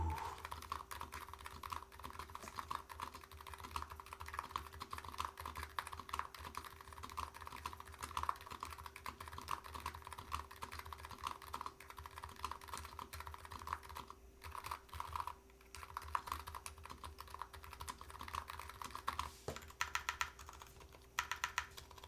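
Steady, fast typing on a mechanical keyboard with EC Navy switches and PBT keycaps gives a dense stream of close, muted clacks with a faint background hum.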